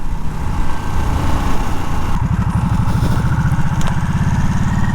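A motorcycle engine runs steadily while being ridden, a loud continuous rumble with wind noise that settles into a lower, pulsing throb partway through.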